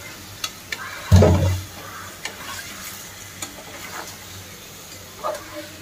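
Boal fish sautéing in a pan, a steady close sizzle of frying with a loud stir and scrape of the spatula, then quieter crackling and a few light clinks.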